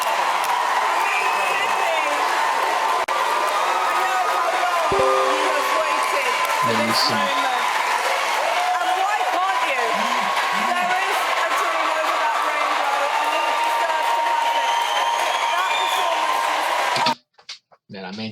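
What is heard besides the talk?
audience applauding and cheering after BGT performance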